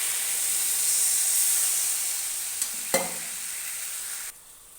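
Water poured into a pan of frying vegetables and greens sets off a loud, steady hissing sizzle that fades a little, broken by a sharp clatter near the end, then drops to a low simmer.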